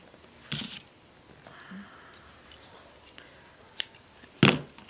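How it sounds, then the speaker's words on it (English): Scissors snip through yarn in a few sharp metallic clicks, one early and a louder pair near the end, close up against a quiet background with no speech. "I'm actually going to cut a bit of this yarn because I think I have way too much"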